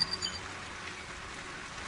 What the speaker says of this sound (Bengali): এদিকে রাতও অনেক হয়েছে, তার উপর বৃষ্টিটা থামার নামও নিচ্ছে না